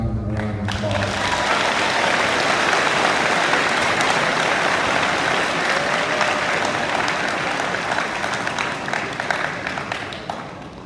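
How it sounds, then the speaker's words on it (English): Audience applause at a high school awards day ceremony for grades 9 to 11, a loud sustained burst of many hands clapping that starts after a brief voice and slowly tapers near the end. "So let's give Katie and Donovan a round of applause."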